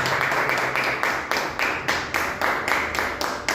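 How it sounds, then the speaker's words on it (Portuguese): A church congregation claps in a steady rhythmic beat, many hands together, moderately loud and continuous, with no speech over it. "vamos bater uma linda salva de palmas para o Senhor"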